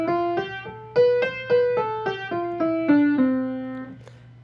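A major scale played note by note on a keyed instrument, eight clear tones stepping in an even rhythm over a steady low sustained note, the last note held before fading out.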